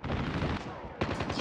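Rapid gunfire in the mobile shooter game Call of Duty Mobile, a loud dense burst of shots filling the brief moment with a fresh volley near the end.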